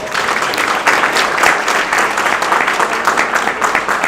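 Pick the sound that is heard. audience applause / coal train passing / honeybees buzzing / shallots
audience applause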